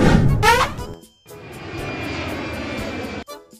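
A loud animated fighter-jet sound effect: a brief whooshing burst, a short gap, then a sustained roaring engine drone that cuts off abruptly and is followed by a short tail.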